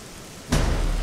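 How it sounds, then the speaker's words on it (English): Rain in the video game Dinosaurs Gone Wild, a sudden burst of steady, fairly loud hiss that starts halfway through and keeps going. "Oh, it's raining all over."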